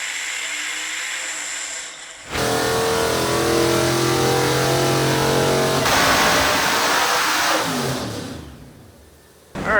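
A Chevy C10 engine revs hard on a dyno in third gear, roaring in a sustained, rising pull for several seconds before dropping off, loud and close with no talk over it.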